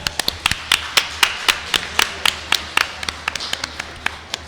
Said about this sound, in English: so just one last round of applause.